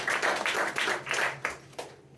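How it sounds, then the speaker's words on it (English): Audience clapping in a classroom-politics discussion, a few bursts of hand claps rising and fading over about two seconds, fairly close, then dying away. "So let's clap for that"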